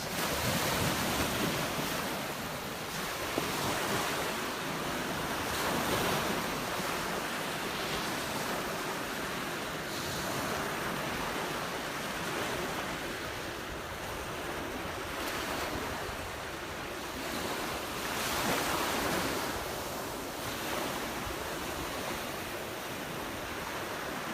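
Ocean waves breaking on the shore at Kaloko-Honokōhau National Historical Park in Hawaii, a continuous broad roar of surf that swells and eases with the sets, mixed with some wind noise and no voices.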